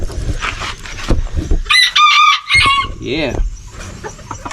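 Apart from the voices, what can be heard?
chickens clucking and rooster crowing on homestead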